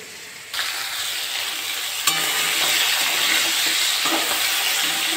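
Chicken frying in hot oil in a pan for a Bengali kachu (taro) chicken dish, a steady close sizzle that jumps louder with a sharp clatter partway through and then keeps crackling evenly.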